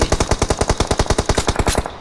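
Rapid automatic gunfire in a battle royale game, one loud close burst of about twenty evenly spaced shots in steady rhythm, alone without talk.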